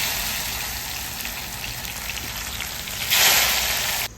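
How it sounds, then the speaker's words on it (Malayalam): Bitter gourd frying in a pan of hot oil gives a steady, close sizzling hiss that swells louder near the end before cutting off abruptly. "നമുക്കിനി പാവയ്ക്ക ഒന്ന് വറുത്തെടുക്കാം."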